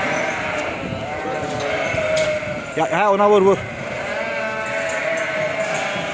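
A sheep on a lamb-fattening farm gives one wavering bleat, short and close, over steady barn background noise. Someone speaks around the call.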